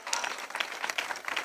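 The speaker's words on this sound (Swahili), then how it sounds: "Wananchi, naomba makofi kwa hawa wawili." A crowd claps for two guests being welcomed, a soft, steady patter of many hands heard from a distance with no voices over it.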